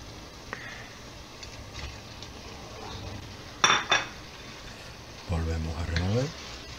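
Meat goes into a pot of reducing red wine, with a sharp metallic clatter of utensil against pot midway, then scraping and stirring sounds near the end over steady kitchen background.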